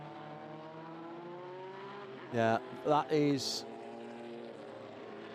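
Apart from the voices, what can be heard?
Group C Nissan race cars passing at Spa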